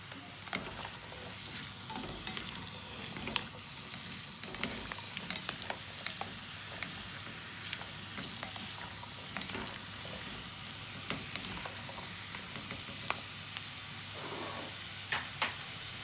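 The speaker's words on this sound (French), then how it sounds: "Chaque légume doit être frit indépendamment." Vegetables for homemade ratatouille frying in a pan, one kind at a time, with a steady sizzle, faint stirring scrapes and small crackles throughout, close and fairly quiet.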